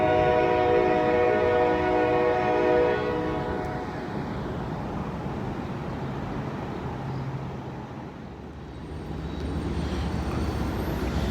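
A train rumbles past at close range, its horn sounding loudly in a long blast over the first few seconds, then the steady roar and clatter of the cars continues alone to the end.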